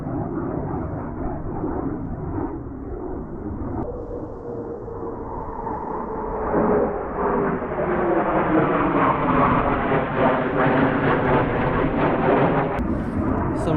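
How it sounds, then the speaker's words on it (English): A military jet passes overhead in open countryside, a broad roaring rumble that swells and grows louder over several seconds, its pitch sliding downward as it goes by, loud and continuous with no talk. "Some sort of military jet."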